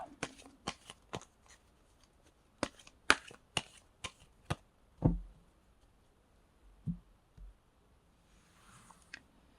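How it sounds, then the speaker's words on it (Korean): Tarot cards shuffled and drawn by hand: a quick series of crisp, close card snaps and riffles, then a few softer taps as cards are laid down, in a quiet room. "추가 카드 한번 뽑아볼게요"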